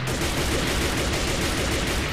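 In a Minecraft zombie survival game on a deserted island, guns fire in a dense, sustained burst of rapid shots that blur into continuous loud crackling across the whole moment.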